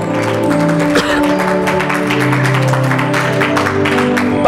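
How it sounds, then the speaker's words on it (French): Congregation applauding at a church service, a steady dense patter of clapping held at a constant level throughout, with talk mixed underneath. "Acclamons très fort."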